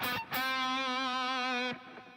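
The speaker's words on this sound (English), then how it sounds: "Oh, there's some kind of delay on there." Electric guitar with a delay effect and some reverb, playing a single sustained, distorted note that rings steadily for about a second and a half, then cuts off into a faint trailing echo.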